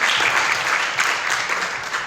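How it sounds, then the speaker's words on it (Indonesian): A church congregation at an Indonesian Saturday evening prayer service bursts into loud, sustained applause, a steady crowded clatter of many hands without talk. "Tepuk tangan buat Tuhan Yesus saudara."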